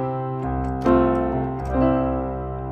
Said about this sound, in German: Classical Piano, nehmen wir hier gleich das erste.